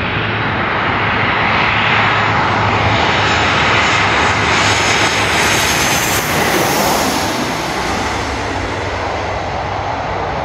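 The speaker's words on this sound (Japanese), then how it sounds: "飛んでる飛行機こんな間近で見えるところないよね" A low-flying airplane roars loudly overhead above a river near Itami Airport, its broad engine rumble swelling and holding steady for several seconds.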